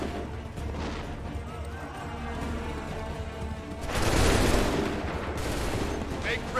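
A musket volley in Assassin's Creed 3 rings out as a dense crackling burst of shots over ongoing battle noise. A further loud report follows near the end, and game voices are heard earlier.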